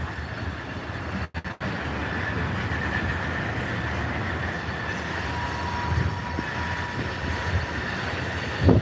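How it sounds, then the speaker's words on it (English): A train rolls past close by near a pier, a continuous rumbling wheel noise with a steady high squeal, holding fairly even throughout and swelling slightly at the end. "there's a train right there"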